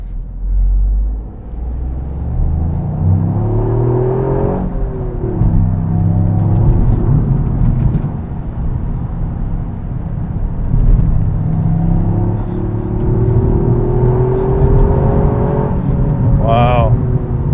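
A Toyota Yaris GR engine drones and rises and falls in pitch through gear changes while driving, loud and close inside the cabin, with someone talking over it.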